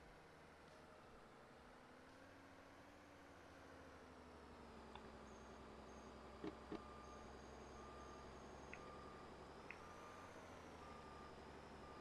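A tow truck in a Roblox game backs up with repeated high electronic reversing beeps. The beeps ride over a steady low engine hum, with a few clicks, and no one speaks.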